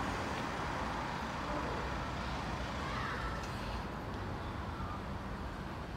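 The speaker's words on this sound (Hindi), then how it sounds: "गाड़ियों का आना जाना" Steady traffic rumbles along a busy city-centre street in Wiesbaden as cars and other vehicles pass. It is a dense, continuous wash of road noise with no clear pauses.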